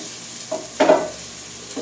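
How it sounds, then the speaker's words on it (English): Bay leaves stirred through hot oil in a pan for a mushroom tikka masala, giving a brief soft scrape of the spoon and a short gentle sizzle that rises for a moment and fades. "we just want to stir it around till you start smelling a little fragrant there"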